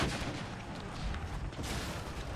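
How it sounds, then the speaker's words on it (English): Cannon fire in Empire: Total War during a siege battle, a dense, continuous rumble of booming shots and crackling gunfire layered into a loud, steady barrage with no voices. "Oh, this cannon's firing."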